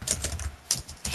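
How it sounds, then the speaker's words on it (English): Rapid typing on a computer keyboard, loud and close, with bursts of clattering keystrokes separated by brief pauses. "she's typing away"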